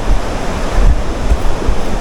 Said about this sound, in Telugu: సౌండ్ వినిపిస్తుందా? వాటర్ ఫాల్ దగ్గరికి వచ్చేసాం.